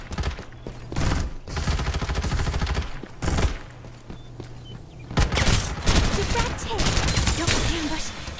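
Rapid gunfire in the Farlight 84 battle royale game, repeated bursts of shots over busy combat noise, with in-game voice callouts in between.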